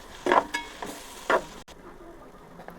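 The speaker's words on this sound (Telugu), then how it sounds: "పేస్ట్ కూడా పచ్చివాసన పోయేదాకా వేపుకోవాలి" Ginger paste fries in a pan with onions, two bursts of loud sizzling as it is stirred, then a softer steady crackle close up.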